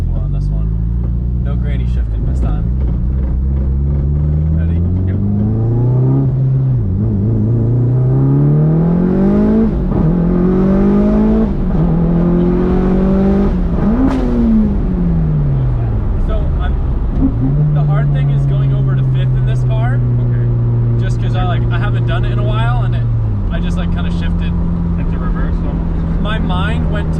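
A Mitsubishi Evo 5 with launch control launches hard and accelerates through no-lift shifts, engine rising in pitch, cutting briefly on each gear change and climbing again, loud and close throughout.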